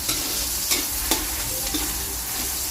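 Ginger, onion and garlic frying in the leftover oil from earlier frying, for chicken feet adobo, a dense close sizzle with a few sharp spatula scrapes, no voices.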